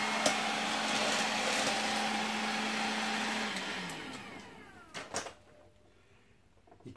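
A Hoover FreeMotion 2in1 cordless vacuum cleaner (FM144B2) runs with a loud, steady whirring motor drone that winds down and stops, leaving a few handling knocks and clicks.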